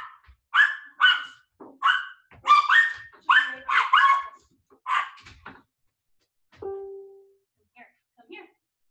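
A pet dog at home barks in a rapid series of sharp, fairly close barks, then a brief whine and a couple of softer yips after a pause.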